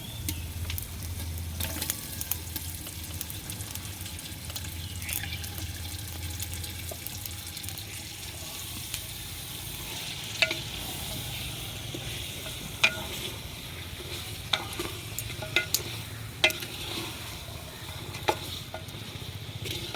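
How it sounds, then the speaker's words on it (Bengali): Oil and spice paste for a mutton dish sizzle in a hot cooking pot, a steady faint hiss broken by occasional sharp pops and clicks from stirring, with no talking. "এবার তেল মশলাটা দিয়ে দিলাম ভালো করে হাঁড়ির মধ্যে মাখিয়ে নিতে হবে মাংসটা দিয়ে দেব"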